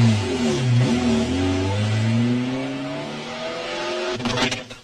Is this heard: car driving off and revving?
yes